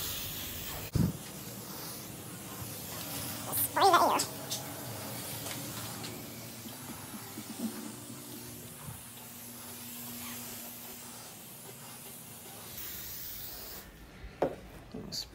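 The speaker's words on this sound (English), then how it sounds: "Next, I'm gonna spray my room with disinfectant." Disinfectant sprayed around a room with an air conditioner and fan running, a long soft hiss of spray mist under a steady fan hum, with a few rustles and knocks nearby.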